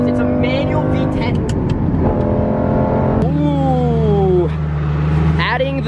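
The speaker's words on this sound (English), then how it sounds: "We're gonna drop it into third. Oh my God, this thing pulls. It's a manual V10." A manual Lamborghini Gallardo V10 pulls hard in third gear, its loud engine note climbing steadily, dipping at a shift, then rising again close to the microphone.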